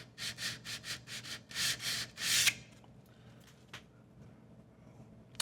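Model railroad track rails are rubbed with 220 grit sandpaper in a series of short, rhythmic, raspy strokes, about eight in quick succession. Then it goes quiet except for faint small handling sounds.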